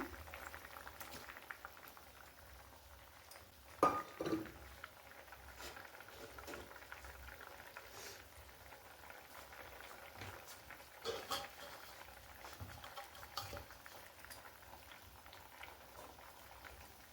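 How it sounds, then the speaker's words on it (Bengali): A pot of mango and fried prawn curry bubbling at a low, steady boil, soft continuous simmering with a few louder clinks and bumps, in a village kitchen. "ঝোলটা ফুটে গেছে"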